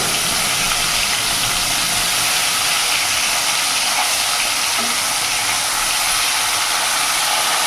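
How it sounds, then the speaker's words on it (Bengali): A loud, steady sizzling hiss of aila fish frying in hot oil, continuous from start to finish with no voices. "আমার তেল গরম হয়ে গেছে, আমি মাছগুলো একে একে ছেড়ে দেবো।"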